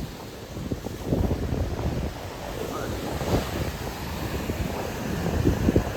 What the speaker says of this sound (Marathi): मंडळी समुद्र बघा एकदम जवळ हा समुद्र.